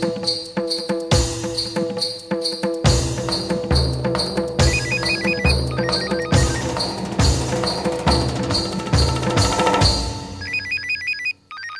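A telephone ringtone plays loud and close, a repeating electronic melody with steady rhythmic pulses lasting several seconds before cutting off abruptly.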